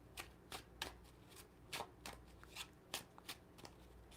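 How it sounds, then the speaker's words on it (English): A pack of regular playing cards is shuffled up close, a quiet series of sharp riffling and snapping bursts in an uneven rhythm. "You give them a shuffle."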